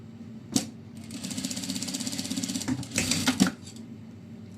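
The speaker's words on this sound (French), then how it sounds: "je viens coudre la deuxième comme ça ici." A sewing machine runs in steady bursts, stitching a second fabric ear onto a small pouch, its rapid mechanical clatter rising and pausing between short runs, close and fairly loud.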